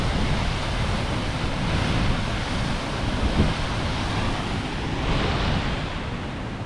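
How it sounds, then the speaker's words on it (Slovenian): Steady, dense roar of the Sopot waterfall, about 30 metres high, in Istria, Croatia, loud and continuous without a break, heard up close. "To je ta veličasten slap Sopot."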